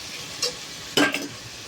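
Chicken biryani masala sautés in a pan, with a soft steady sizzle broken by two quick scraping stirs of a spoon, the second louder.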